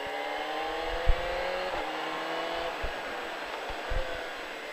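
A motorcycle engine on a riding training track climbs through its revs with rising harmonic whine, steady and fairly near, with a few short thumps along the way and no voices.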